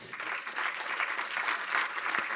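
An awards-ceremony audience applauds winner Leclerc, a steady wash of many hands clapping at once, moderately distant and fairly quiet, sustained evenly with no speech over it.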